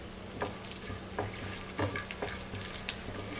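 Cashews and almonds fry in hot ghee with a steady, crackling sizzle, broken by soft scraping bursts as the nuts are stirred in the pan. No voices are heard.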